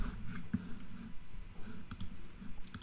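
Scattered sharp clicks of a computer mouse, several brief taps spread irregularly over a quiet low background hum.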